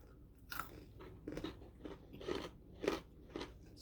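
Close crunching bites and chewing of crunchy chocolate, about six distinct crisp crunches spaced roughly half a second apart against quiet.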